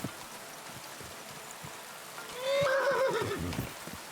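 A single horse neighs loudly and close in Kingdom Come: Deliverance 2, a rising then falling whinny of about a second over quiet outdoor ambience with soft footfalls.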